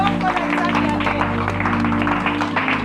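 A church congregation claps together, dense continuous applause over sustained musical tones from the worship service.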